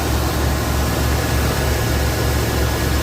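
A car engine idles loudly and close with a steady, dense rumble and a faint low pulsing throb, unchanging throughout.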